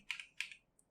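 A few quick keystrokes on a computer keyboard, two pairs of light, close clicks followed by a faint tap, quiet and alone.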